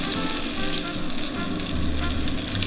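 Salmon fillets frying in hot oil in a pan give a steady, close sizzle with crackling hiss throughout, no talk over it.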